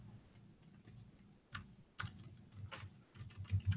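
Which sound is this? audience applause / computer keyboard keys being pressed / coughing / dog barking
computer keyboard keys being pressed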